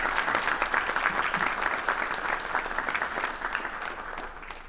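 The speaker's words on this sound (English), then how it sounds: "So another round of applause for our panelists." An audience applauds the panelists after a discussion about football, dense continuous clapping from many hands that holds steady and then gradually tapers off.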